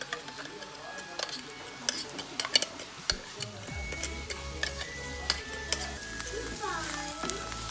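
Tuna sizzles quietly in a pan while a utensil stirs and scrapes it, with soft clinks and ticks scattered over a low cooking hiss and a faint hum.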